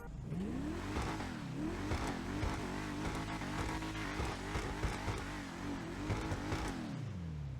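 The Enus Deity car in GTA Online revs its engine loudly and continuously, pitch sweeping up and down through repeated throttle blips, with no voices.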